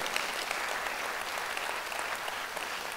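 A church congregation claps together during a Sunday worship service, a steady wash of applause filling the room for the full few seconds, moderately distant, with no voice over it.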